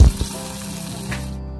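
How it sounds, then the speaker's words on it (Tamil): Mustard seeds, cumin and curry leaves tempering in hot oil for buttermilk curry: a loud initial splash and crackle, then a steady hissing sizzle close by that fades out. "கருவேப்பிலை போட்டு தாளிச்சு அந்த மோர் குழம்புக்கு ஆட் பண்ணிக்கலாம்."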